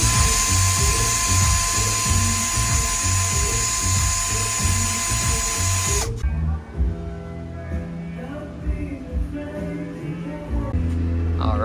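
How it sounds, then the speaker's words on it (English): A wire wheel grinds against a 1964 Corvette fuel filler neck held in a vise, a loud high-pitched whine with rattling contact for six seconds, then the motor winds down amid clattering mechanical noise. "do some wire wheeling"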